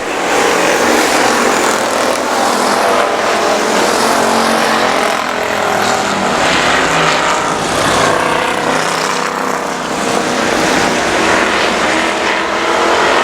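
Race cars roar around the I-37 Speedway oval, a loud, dense and continuous engine wash that swells and stays thick for the whole stretch, with no talking over it.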